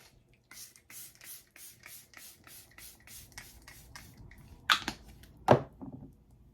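A series of soft, rhythmic hissing pumps from a face mist spray bottle, about a dozen in a row, followed by a couple of louder rustles.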